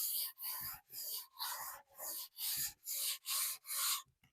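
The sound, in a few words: hand sanding varnish finish with fine sanding block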